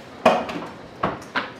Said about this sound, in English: Clean off my cutting board.